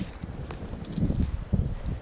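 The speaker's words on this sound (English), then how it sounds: "Don't mind the wind, it's windy." Low, gusty wind buffets the microphone in a steady rumble that swells and surges, with no voices.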